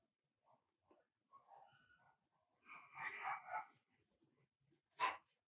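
A dog barks and whimpers a few times nearby, with short irregular yips followed by a louder burst of barking and one final sharp bark, heard alone in an indoor room.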